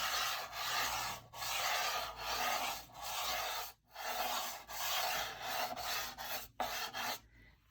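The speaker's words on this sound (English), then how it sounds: "I'm just going to rub that in using the whole flat edge and very light pressure." Pastel stick rubbed flat-edged with light pressure across paper, a soft, close scratchy rasp in repeated back-and-forth strokes with brief gaps between them, heard alone.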